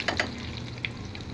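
Mustard seeds pop and crackle in hot oil for a dal tempering, a soft steady sizzle with a few sharp pops near the start.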